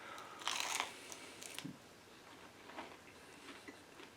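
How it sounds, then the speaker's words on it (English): Crunchy baked keto cheddar and dill pickle chips are bitten at close range, with a sharp crunch burst followed by fainter crunches and quiet chewing. "They're good and crunchy around the outside."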